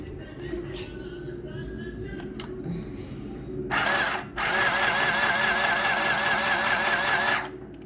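A sewing machine joins two tote bag strap pieces, a loud steady whirring run of about four seconds, preceded by a short burst and quieter handling sounds and background noise.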